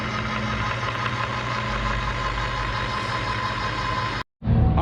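A Gorlitz machine's replacement motor spins its shaft through pulleys with a continuous loud mechanical drone and whir, close up, cutting out briefly near the end before resuming.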